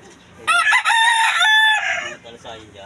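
A rooster on a farm gives one loud, close crow with a long drawn-out call, followed by softer clucking.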